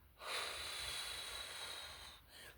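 A single deep breath drawn in and let out slowly as a breathing exercise, a close, airy hiss lasting about two seconds with no talking.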